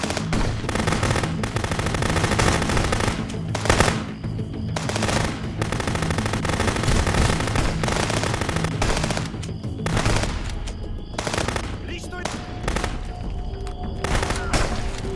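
Sustained gunfight in the border-inspection game Contraband Police, with dense, rapid bursts of automatic fire and single shots overlapping almost without pause, loud and close, plus occasional heavier booms.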